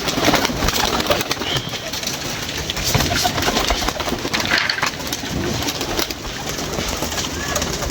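Pigeons coo continuously, close and fairly loud, amid rustling and background noise, with a voice faintly present underneath.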